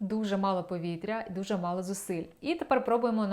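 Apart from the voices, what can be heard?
None of the usual background noises is heard.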